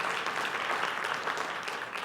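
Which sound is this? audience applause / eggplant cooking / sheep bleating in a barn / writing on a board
audience applause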